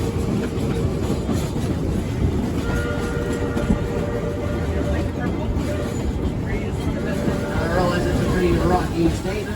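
Georgetown Loop Railroad locomotive no. 40 rolls steadily on rails down a 4% descending grade, a continuous loud rumble of wheels and car noise with faint squeals and a brief horn-like tone, while a voice talks over it.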